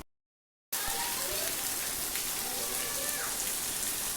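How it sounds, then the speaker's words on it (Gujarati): Rain begins falling outdoors after a brief silence, a steady, dense hiss of drops pattering on surfaces that carries on evenly at moderate loudness. "ફાઇનલી તો વરસાદ શરૂ થઈ ગયો."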